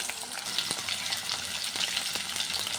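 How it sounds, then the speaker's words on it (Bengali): Potatoes fry in hot oil, giving a steady, close sizzle with scattered sharp crackles and pops throughout. "তেলটা গরম হয়ে গেছে বন্ধুরা, এই আলুটাকে ভেজে নিই।"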